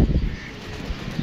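Newly released pigeons outdoors give a brief burst of fluttering and soft bird calls, loudest at the start and near the end of a short, busy outdoor moment.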